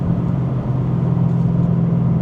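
Mercedes C63 AMG engine rumbling on a drive, a steady deep low drone heard from inside the car, loud and unbroken with no voices.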